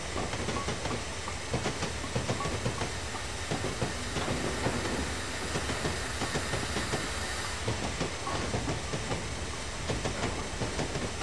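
Steam locomotive hauling cargo in Train Simulator 2016, a steady loud rumble of wheels with hissing steam and rhythmic clickety-clack running continuously without pause.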